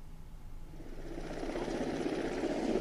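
A helicopter at Dumka airport in Jharkhand, standing by to fly election polling parties to remote booths, runs with a steady rotor and engine drone that grows a little louder, heard alone with no talking.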